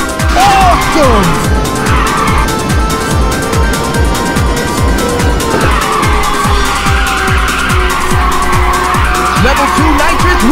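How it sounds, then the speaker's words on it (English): Car drifting with tire squeal in the Ridge Racer 2 video game on the PSP, Ridge City Highway course: a loud steady engine roar with sustained tire screech and a repeating chugging pulse, music-like layers underneath, continuous throughout. "Feeling good! Good drift!"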